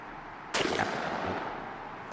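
A Mossberg SA 28 gauge shotgun fires a Salt Creek turkey load outdoors: one sharp, loud blast with a short ringing decay, preceded and followed by quiet.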